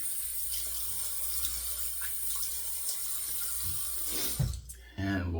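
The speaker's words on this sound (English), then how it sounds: "All right, we'll rinse that. We'll rinse our face." Water runs steadily from a sink tap as a face is rinsed during a wet shave, with a brief splash and clatter near the end before the flow changes.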